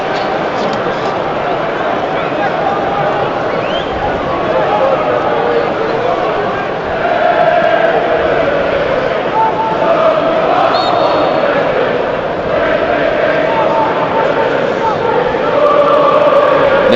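A large stadium crowd at a Newcastle United v Fulham Premier League match roars with scattered sarcastic cheers and clapping as a free kick is awarded, a dense, continuous wash of voices and noise that swells slightly midway.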